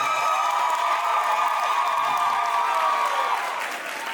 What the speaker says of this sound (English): A round of applause for Black women in business.